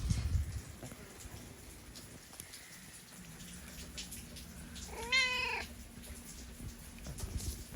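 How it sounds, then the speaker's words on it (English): A wet cat outside in the rain gives one clear, drawn-out meow partway through, fairly close. Soft rain patter continues in the background and no one speaks. "She's meowing so cute."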